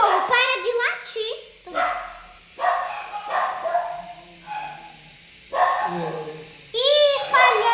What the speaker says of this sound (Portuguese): Os cachorros, para de latir.